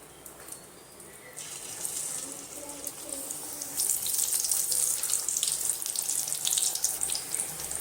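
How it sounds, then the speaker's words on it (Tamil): Samosas deep-frying in hot oil, a steady hissing bubble that swells louder partway through and stays strong, with a faint voice underneath. "நம்ம ரெடி பண்ண சமோசாவை இதில் பொரிச்சு எடுத்துடலாம்."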